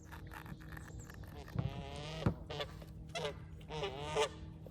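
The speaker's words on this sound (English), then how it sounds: "What do you want, geese?" Several geese honk in loud, harsh bursts at close range on an island camp, repeated irregular calls over a quiet outdoor background.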